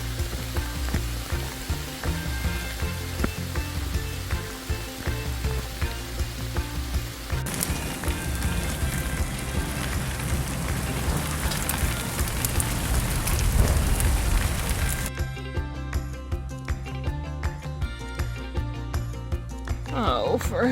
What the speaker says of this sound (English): It rained really hard there for about half an hour.